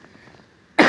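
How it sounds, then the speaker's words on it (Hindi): A single harsh cough bursts out near the end, loud and close, after a stretch of faint room sound. "खांसी है काफी दिन से, थोड़ा सा प्रॉब्लम हो रहा है।"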